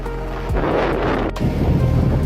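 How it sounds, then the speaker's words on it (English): Loud, rushing gusts roar across the microphone, buffeting heavily with a deep rumbling blast of wind and no voices. "It just got really windy now"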